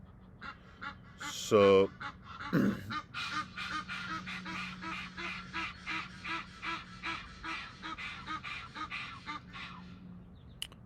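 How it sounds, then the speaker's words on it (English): A goose flies by honking over and over in a steady rhythm, fairly faint and distant over a low hum, after a brief burst of other calls and one short spoken word. "when a goose flies by, the goose get crazy"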